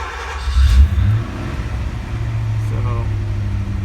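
Porsche 928 engine idling, a steady low rumble after a brief rev at the start, heard close with someone talking over it.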